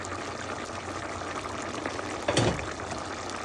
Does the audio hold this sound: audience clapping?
no